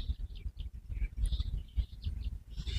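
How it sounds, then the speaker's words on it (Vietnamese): Birds chirp in short, scattered calls at moderate volume over a steady low rumble of outdoor background noise, with no talking. "có những tiếng chim này kiểu muốn tiễn đưa đấy"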